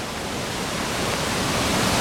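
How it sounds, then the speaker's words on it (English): Flood water from heavy 2012 rain cascades down a staircase near hot springs like a waterfall, a dense, steady broadband rushing roar that holds constant and slightly swells, close and loud with no voices. "Whoa, it's a waterfall on the staircase."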